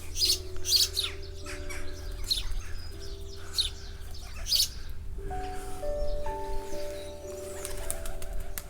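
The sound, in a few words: nesting sparrows and pigeons chirping in abbey ruins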